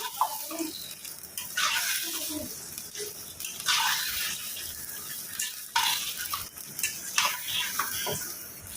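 Washed chicken with salt and spices being stirred and braised in a pan, a continuous close sizzle with scraping stirs and occasional clinks of utensil on metal, no talking.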